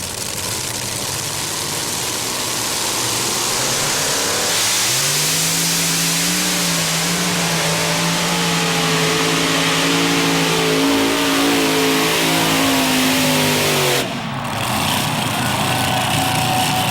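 A modified pulling tractor's engine roars loudly and steadily at a tractor pull, its pitch sweeping up and holding high as it revs hard, then cutting off abruptly near the end before resuming.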